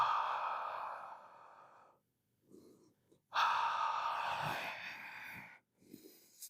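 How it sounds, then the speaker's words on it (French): Slow breathing in a stretching exercise at home: a long, audible exhale, a pause and small breaths, then another long, steady exhale fading out, close and alone. "Expirez plus longtemps, relâchez l'air en comptant jusqu'à 3, puis inspirez à 4."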